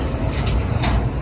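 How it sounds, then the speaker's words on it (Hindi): Car jack lifting a car during a tyre change on a flat surface, a close run of small metallic ratcheting clicks and scrapes, irregular and fairly loud, with no talk. "ये देखिए धीरे धीरे लिफ्ट हो जाएगी गाड़ी।"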